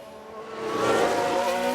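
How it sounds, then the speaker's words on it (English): A Haas Formula 1 car spins out in the F1 Manager 22 racing game, with a continuous engine drone and tyre squeal that swells and holds steady over a short stretch, with no voices. "We've just had a spin."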